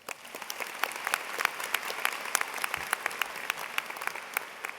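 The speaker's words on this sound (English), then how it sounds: "let's give another round of applause to Cameron for a very well-prepared speech." Graduation audience at a 2016 Utica High School ceremony applauds steadily, a dense wash of many hands clapping with sharper individual claps popping out, sustained throughout with no talk.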